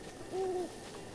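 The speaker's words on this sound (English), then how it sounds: "Is that an owl that I keep hearing?" An owl hoots once in the Zelda: Breath of the Wild game world, a single soft, clear tonal call rising and falling over a quiet ambient background.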